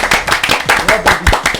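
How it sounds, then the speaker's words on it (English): Rapid, uneven clapping bursts close by in a small room on a New Year podcast, loud and punchy with a bit of muffled chatter mixed in. "Let's stop and give a round of applause."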